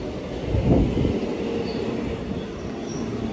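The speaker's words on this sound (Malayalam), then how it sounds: "നമുക്ക് പോകേണ്ട ട്രെയിൻ എത്തി" Train pulling into a railway station, a steady rumbling roll with a louder swell near the start, no voices over it.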